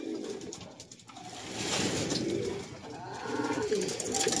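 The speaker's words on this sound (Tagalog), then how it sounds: "Awit na ibon niya no" Pigeons coo in low, throaty rolling calls, several birds overlapping close by, with soft rustling in the background.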